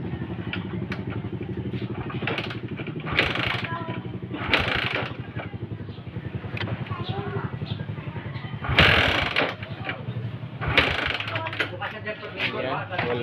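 A Suzuki Rider J motorcycle is kick-started repeatedly to test for spark while troubleshooting a regulator fault, with several mechanical clunks and ratcheting bursts of the kick lever under ongoing nearby talk.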